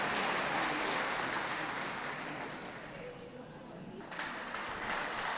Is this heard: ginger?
no